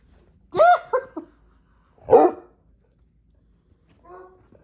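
A dog gives a few separate barks and grumbly vocalizations, two louder bursts close to the microphone followed by a fainter whining sound, with quiet pauses between.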